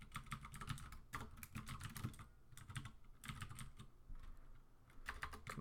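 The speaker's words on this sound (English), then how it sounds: "sorry for my typing" Quick bursts of keystrokes on a computer keyboard clatter in irregular runs with short pauses between, close but fairly quiet, with no talking.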